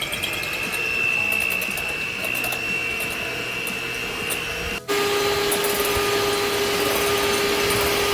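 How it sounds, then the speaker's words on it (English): Electric hand mixer whipping four egg whites to stiff peaks, a steady loud motorized whir with a high-pitched tone that briefly cuts out near the middle, then resumes at a lower pitch. "Now we're going to mix these until we have stiff peaks."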